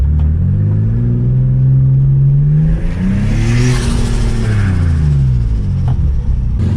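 A Nissan G35 with a custom mid-mount turbo accelerates hard, its engine loud and close as the revs climb and fall in a rising, swelling drone with turbo spool building through the pull.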